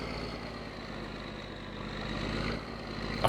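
A car engine idles in the driving simulation game My Summer Car, a steady low rumble with a faint, even pulsing that swells slightly near the end.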